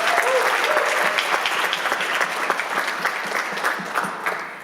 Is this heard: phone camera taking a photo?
no